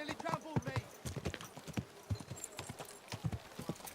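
Horse hooves clip-clop in a quick, irregular rhythm on a street in Kingdom Come: Deliverance, close and distinct, while a voice talks over the steps.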